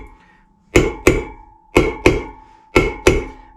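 Metal bearing tapped into a Honda Black Bomber motorcycle wheel hub, six sharp hammer blows in three close pairs, loud and near with quick ringing decay, no talking.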